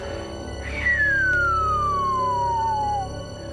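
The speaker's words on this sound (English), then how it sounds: "They're long, kind of descending pitch signals that sound something like." A long, smooth descending-pitch tone recorded as an atmospheric signal near the Marfa lights, gliding steadily downward for about two seconds over a low steady hum, clear and alone with no talk.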